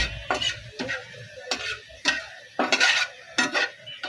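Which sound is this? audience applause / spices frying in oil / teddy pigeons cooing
spices frying in oil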